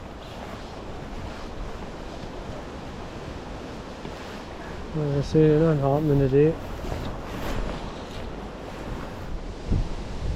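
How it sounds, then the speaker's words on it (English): Wind howls and buffets by a river pool on a windy afternoon, a constant rough roar with a stronger gust in the middle, while someone talks over it. "the wind is howling as it's been really windy all afternoon"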